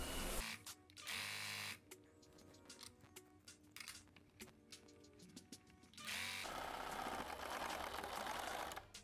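Sewing machine double hemming the curved edges of an upcycled 90s blouse, stitching in rapid bursts that stop and start as the fabric is pivoted, with a long steady run at the end.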